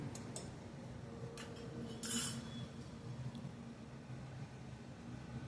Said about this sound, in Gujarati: ચમચાની મદદથી તેને બધું સારી રીતે હલાવી લઈશું